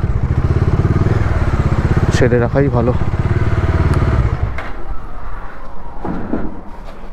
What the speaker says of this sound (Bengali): বাইক ভেতরে ঢুকিয়ে দিচ্ছি আমি